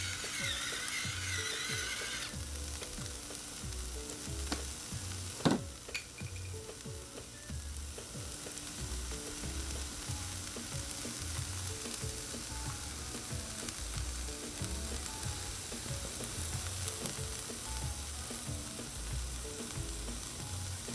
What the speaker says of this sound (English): You can hear that sizzle. This is when I get happy, when I hear that sizzle.